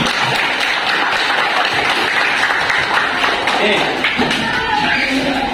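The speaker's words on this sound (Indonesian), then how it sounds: "Tepuk tangan dulu untuk kita semua." Group applause in a classroom, a steady wash of clapping from the pupils that runs the whole time with a few sharper taps and thuds, while talk carries on underneath.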